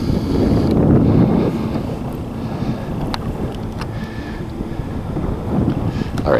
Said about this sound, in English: we're fighting against the wind